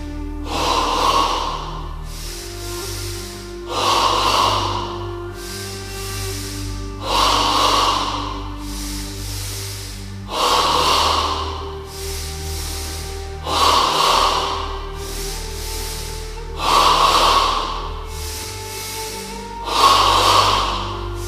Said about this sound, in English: in stage 2 of double breathing, the breath moves from the abdomen to the chest